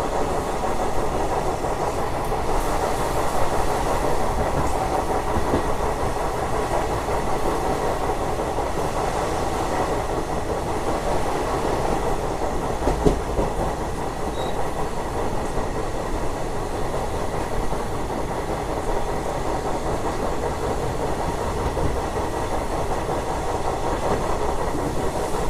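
Passenger train 17219 rolling steadily on rails on the Howrah–Chennai main line as it skips Marripalli Road station, a continuous close rumble with clattering wheels throughout and no talk.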